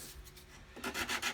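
A sanding stick rasps across the edge of a hard plastic Tamiya 1/10 GR Yaris RC car body, starting faint and then turning into several quick, louder scraping strokes close up.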